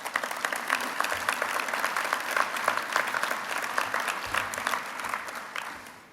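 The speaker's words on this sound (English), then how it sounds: "I hope you'll give yourselves a round of applause right now" An audience at a mayor's development roundtable breaks into sustained applause, a dense, even wash of many hands clapping that holds steady throughout and fades slightly at the close, with no speech over it.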